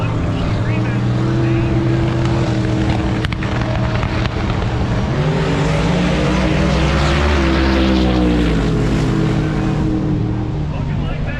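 A 1955 Chevy drag car roars down a drag strip at Great Lakes Dragway, its engine loud and continuous as it rises in pitch through the run, with a track announcer talking over the noise.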